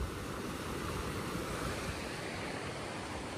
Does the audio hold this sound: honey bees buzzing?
no